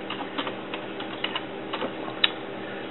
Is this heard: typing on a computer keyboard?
yes